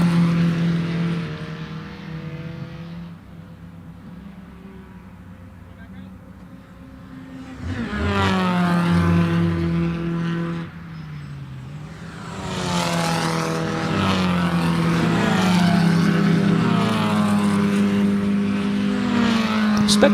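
Spec Miata race cars lapping Lime Rock Park during practice and qualifying, several engines droning and swelling as cars pass, rising and falling in pitch at varying distances, with a commentator talking over them.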